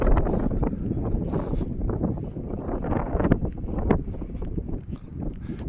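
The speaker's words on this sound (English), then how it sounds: "It's windy and cold up here." Steady wind buffets the microphone throughout, a continuous low rumbling roar with gusty swells and no voices, outdoors at the Buchenwald camp site on a cold day.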